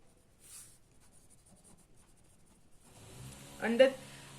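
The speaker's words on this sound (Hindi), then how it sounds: "अब देखो लिखते हैं अंडर दिस मेथड" Pen or pencil writing on paper at a classroom desk during a Class 12 financial markets lesson, a faint scratchy scribbling that builds near the end, with soft background noise throughout.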